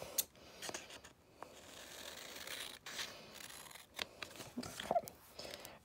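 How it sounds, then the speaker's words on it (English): Scissors snip through paper trimmed straight to fit a Bible journaling page, giving several quiet, close crisp cuts in an irregular rhythm. "So I just cut that straight to line up with the page"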